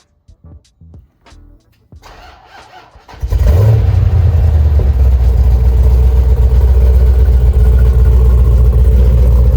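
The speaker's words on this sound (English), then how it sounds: "Well, that's that Hemi sound for you." A Jeep SRT with a Hemi V8 and custom exhaust tips starts up after a few faint clicks, then settles into a loud, deep, steady rumbling idle heard close behind the vehicle.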